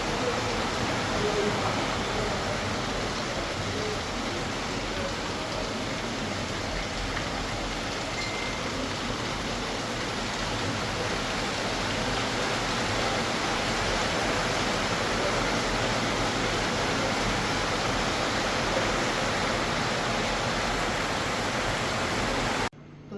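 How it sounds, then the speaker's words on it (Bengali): Rain falling outdoors, a steady broadband hiss that holds constant throughout with a faint voice underneath. "আবার বৃষ্টি শুরু হয়ে গেছে"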